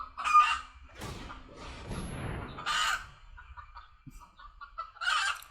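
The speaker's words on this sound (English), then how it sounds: "The chicken is very angry." A chicken clucks and squawks agitatedly in short repeated bursts, fairly close, with quieter rustling and handling noises between the calls.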